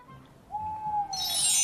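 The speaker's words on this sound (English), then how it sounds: "It's just an owl." A single owl hoots in a spooky Halloween night scene, one long clear tone held for nearly a second, followed by a burst of bright airy noise.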